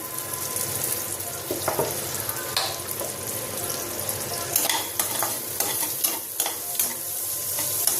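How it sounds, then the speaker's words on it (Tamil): Chopped onion frying in a mix of butter and oil, stirred now and then, with a steady close sizzle broken by scrapes and clicks of the spoon against the pan. "நல்லா வதங்கட்டும். பட்டரோடு சேர்த்து கொஞ்சம் எண்ணெய் விட்டுருக்கேன்."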